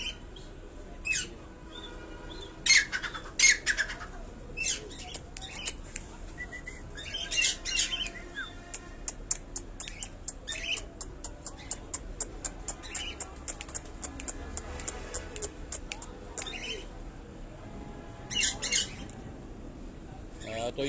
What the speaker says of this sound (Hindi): ये सीजन फैंसी बर्ड्स तोते जो हैं।